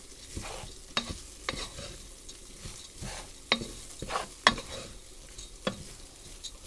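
Rice toasting in a pan is stirred with a series of sharp scraping knocks and soft rustles, spaced about every half second over a faint background, close and fairly quiet.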